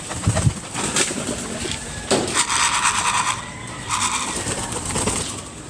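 Pigeons coo softly nearby, with brief wing flaps and rustling among them and faint traffic in the distance.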